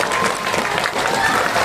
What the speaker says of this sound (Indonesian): Tepuk tangan dong Bu buat Bapak Ibu gurunya